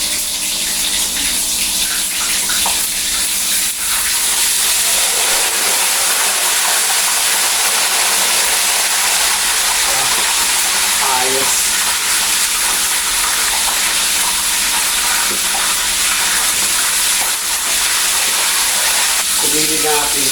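A whole chicken deep-frying in a pan of oil, a loud continuous sizzle and bubbling hiss lasting throughout, with occasional faint clinks and low voices in the background.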